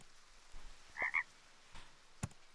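Frog croaks in the video game Super Auto Pets, two short bright ribbits close together, then a faint click and a sharp tap, clean and close over quiet background.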